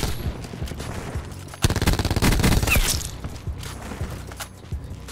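Rapid automatic gunfire from shooting at bots in Call of Duty Black Ops 4, with scattered shots and then a loud, sustained burst of fire that tapers back to intermittent shots.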